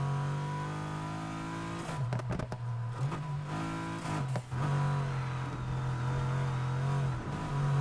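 A Mercedes-AMG GT-R in the video game Need for Speed Heat: a loud, steady engine and exhaust drone, with several sharp throttle blips and rev dips throughout. No one speaks.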